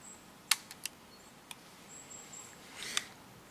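A magazine drum is inserted into an FX Revolution PCP air rifle, a few sharp metallic clicks spaced apart with a final snapping click, close and quiet without speech.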